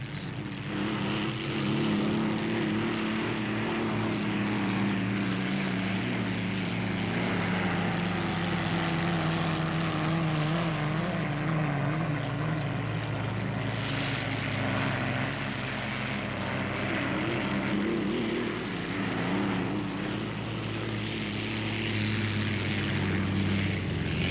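Notre Dame unlimited hydroplane racing boat roaring steadily on a qualifying lap at around 113 mph, a continuous loud engine drone with a deep low hum that holds for the whole stretch, no talk over it.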